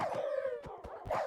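Wolves in a video game mob fight, a short burst of yipping and whimpering canine cries with a howl-like tone, close and fairly faint, over about a second.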